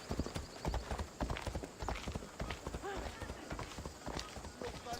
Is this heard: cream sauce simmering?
no